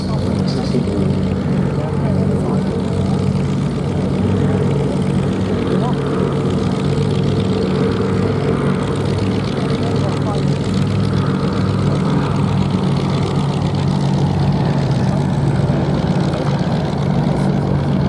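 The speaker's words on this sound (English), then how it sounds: "this fantastic aircraft" A propeller-driven World War II aircraft flies at the Duxford VE Day anniversary air show, its steady engine drone loud and continuous throughout, with a commentator talking over it.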